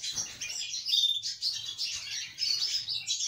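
Pet birds chirp and tweet in quick, bright bursts close by as they gather nesting material, repeated high calls with no talking.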